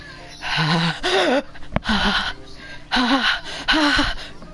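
Sharp inhales through the teeth in a Doki Doki Literature Club game scene, several rough gasping breaths repeating in bursts with short pauses, close and fairly loud, with a voice-like whimpering tone.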